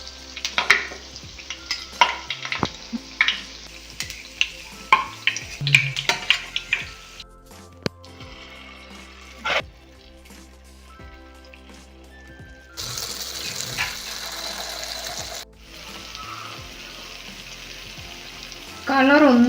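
Unniyappam frying in hot oil, with bursts of sizzling, clinks and stirring scrapes from a spoon, quiet pauses, then a louder steady hiss toward the end.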